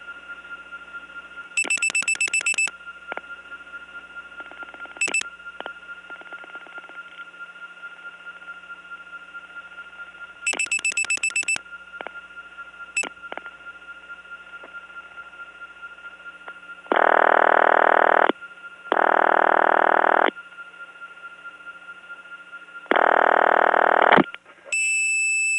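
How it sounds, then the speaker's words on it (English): Repeated telephone ringback tones on a noisy 1979 long-distance trunk line to Gainesville, Georgia, in bursts with pauses between them, over a constant hum and line noise, growing louder toward the end. "Now a ringing number."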